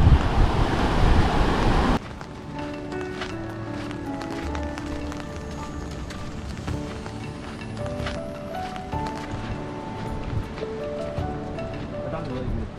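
Sea waves break along the Konkan coast near Harnai in Ratnagiri district, heard from a hilltop. A loud, steady rush of surf and wind fills the first two seconds, then music plays over it.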